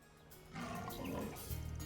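Low growls and snarls from a pack of wolves in the video game Trails through Daybreak, a rough rumbling roar that starts quietly, rises after a moment and continues with a deeper throbbing tone at the close.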